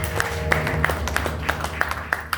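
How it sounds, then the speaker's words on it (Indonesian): Audience applause for a teacher at a corporate success event, a short burst of steady group clapping with sharp individual claps standing out, moderately loud throughout. "Tepuk tangan untuk guru kita."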